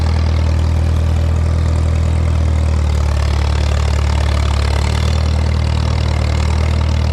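A heavy diesel tractor engine idles steadily and loudly throughout, with a deep constant rumble and a slight shift in tone partway through.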